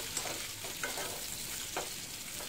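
Diced onion fries gently in a pan with a little oil while cooking chilli chicken kofta, a faint, continuous sizzle broken by a few soft stirring scrapes.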